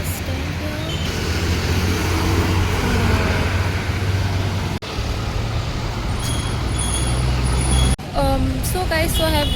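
Buses and cars rumble steadily at a busy bus stand, a dense low roar of engines with an air-brake hiss, short dropouts near five and eight seconds, and faint voices mixed in.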